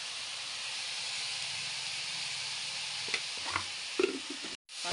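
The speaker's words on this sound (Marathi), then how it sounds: "मस्तपैकी परतून घ्यायचं." Chickpea greens sautéing with salt and crushed peanuts in a pan, a steady close sizzle and hiss throughout, with a few soft stirring scrapes near the end before a brief cut.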